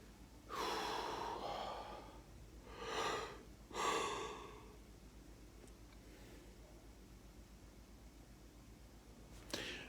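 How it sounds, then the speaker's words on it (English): A person catching their breath, with three deep, heavy breaths in the first four seconds, close and clear against near silence, followed by a quiet pause and one short sharp breath at the end. "I want to take a few seconds to catch my breath."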